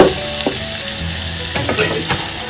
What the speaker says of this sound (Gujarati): હિંગમાં ટમેટા સાતળી નાખવાના